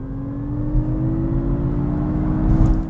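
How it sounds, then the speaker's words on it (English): Steady electric drive whir heard from the cabin of a 2022 Mazda MX-30 EV, a low continuous hum with faint tonal lines rising gently as the car gets under way, swelling slightly at moments with no talking. "And what about the electric sounds from the inside?"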